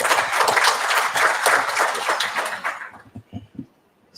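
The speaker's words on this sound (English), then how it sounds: "Let's give a round of applause" Plenary audience at a memorial lecture claps in a round of applause, loud and dense at first, then thinning out to scattered claps and fading away.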